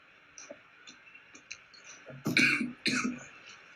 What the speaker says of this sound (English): Dude, I don't think coughing's a move.